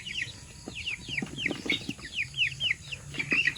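Rhode Island Red chickens cluck over and over at close range, with short chirpy calls in a steady run and a low murmur of flock and farmyard noise underneath.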